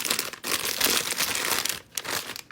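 A plastic pastry bag crinkles and rustles up close as its top is folded over. The crackling runs in continuous loud bursts with a brief dip, and no voices.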